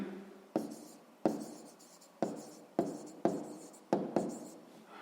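A pen or marker writes out expression values for a sixth-grade math exercise, heard as six crisp scratching strokes at irregular intervals, each with a sharp attack and fading tail, close-up and quiet with no voices.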